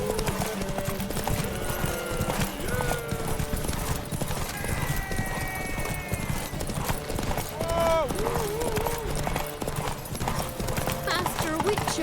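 In The Witcher 3, Roach the horse gallops with rapid, continuous hoofbeats beneath game music and people talking, with a faint whinny partway through.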